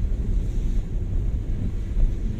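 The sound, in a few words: ocean waves crashing on rocky shore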